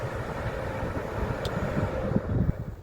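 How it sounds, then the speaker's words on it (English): A Hull Trains 10-car passenger set from Hull to London King's Cross arrives at Grantham with a loud, broad, steady rumble that swells slightly toward the end, with no talk over it. "1639, Hull Trains Paragon service from Hull to London King's Cross."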